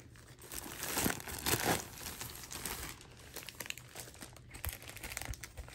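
A plastic bag from a diamond painting kit is handled and opened close by, with crisp crinkling and rustling in bursts, some brief tearing sounds, and no talking.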